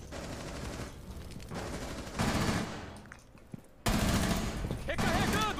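Rapid bursts of rifle gunfire in Rainbow Six Siege, loud sustained automatic volleys broken by short pauses, with players talking over the shooting.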